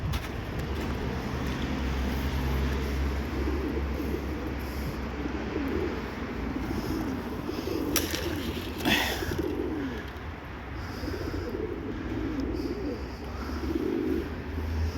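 Tumbler pigeons coo at close range against a steady low outdoor rumble, with soft wing flutters and scattered bird calls in a snowy setting.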